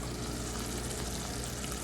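Sugar syrup for Mysore Pak boils hard in a pan, giving a steady, dense bubbling hiss that stays close and even throughout, with no voices.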